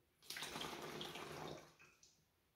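Half a cup of water poured into a bug-spray mixture makes a brief, quiet splashing pour of about a second and a half, followed by a couple of faint drips, with no talk.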